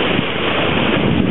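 A sailboat under full sail, heeled well over as it runs along the Portuguese coast: loud, continuous wind buffeting and rushing water and waves, steady throughout with no voices.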